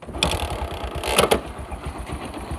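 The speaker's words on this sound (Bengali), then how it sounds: "তো আমি আপনাকে এখন গাড়িটির সাউন্ড দেখাবো।" A second-hand Bajaj Platina 100cc motorcycle with about 35,400 km on it idles close by, its single-cylinder engine putting out a steady, rapid putter with a brief rev partway through and no speech.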